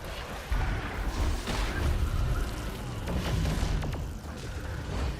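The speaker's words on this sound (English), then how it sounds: "Flashbang out." A flashbang grenade goes off in a video game, a loud dull boom with crashing noise that rolls on over several seconds of busy game sound.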